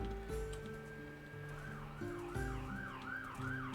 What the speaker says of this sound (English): I have sirens.